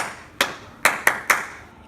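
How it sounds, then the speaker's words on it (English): Four sharp hand claps ring out in a quick rhythm in a classroom setting: one lone clap, a pause, then three in fast succession, each crisp and close with a short room tail. "do a clapping rhythm"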